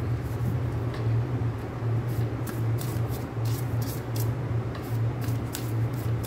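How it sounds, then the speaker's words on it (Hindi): Cards of a large Cozy Witch tarot deck shuffled sideways, a steady close riffling rustle with soft repeated card slaps over a low constant hum. "आई थिंक इतने बड़े देख तो मैं साइडवेज ही शफल करती हूँ"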